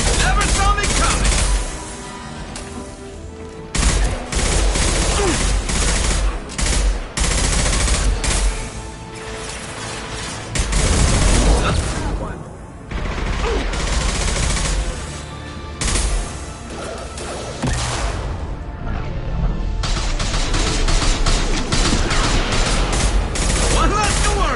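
Video game gunfire, dense rapid bursts and fusillades of loud shots that fill nearly the whole stretch, with brief gaps between volleys and explosive booms mixed in.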